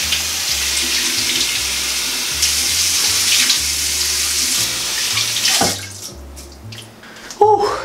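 Tap water runs steadily into a sink or basin while someone rinses their face, a continuous broadband splash that shifts in pitch when the flow is interrupted near the end, with no talking.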